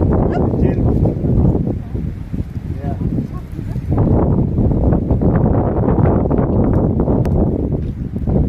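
Strong wind roars and buffets the microphone in loud gusts beside an outdoor campfire, with voices talking faintly underneath.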